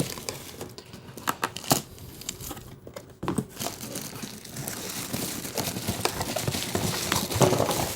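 Plastic packaging and tape crinkling and tearing as a blade cuts tape off the back of a Star Wars Black Series Boba Fett helmet box, a run of close, irregular crackles and rips building louder toward the end.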